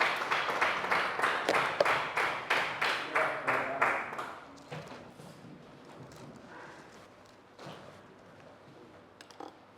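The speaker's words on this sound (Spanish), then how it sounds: "denle un fuerte aplauso" Rhythmic group clapping at a church service, steady and fairly loud for about four seconds, then fading into scattered, quieter claps and room noise.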